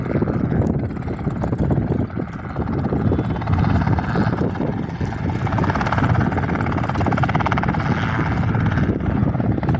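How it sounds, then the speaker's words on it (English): A white Robinson R44 helicopter hovers near a helipad on a windy day, its rotor chop and engine drone loud and close, pulsing steadily with gusty wind buffeting underneath. "The R44 Robinson in the white colour is hovering, is wanting to come over to this helipad here."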